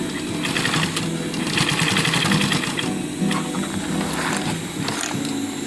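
A sewing machine set to a 3 stitch length runs steadily while stitching a fabric roll-up pouch, giving a close, continuous mechanical whir and rapid needle clatter with no pauses.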